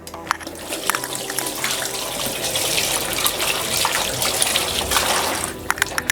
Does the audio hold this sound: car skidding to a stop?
no